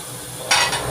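A spoon stirs onions and marinated chicken in a curry pan, giving a steady sizzle of frying with a sudden scraping swish halfway through, loud and close.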